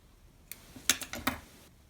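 Scissors snip knitting thread close up during a finger-knitting craft, several quick, crisp cuts in a short cluster within a quiet room.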